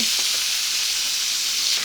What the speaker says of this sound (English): I'm adding my chicken livers. You don't want them to steam or boil, you want them to saute.